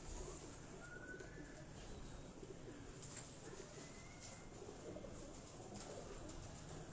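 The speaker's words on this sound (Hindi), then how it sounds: "ये अगर आप देखें तो ये आपको लाखी ब्रीड के कबूतर नज़र आ रहे होंगे।" Lakhi breed pigeons on a rooftop at night give soft, faint coos against a steady background hiss.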